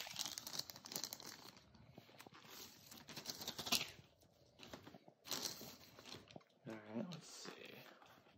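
Crinkly plastic bag rustling in bursts, close up, with a voice talking intermittently over the handling.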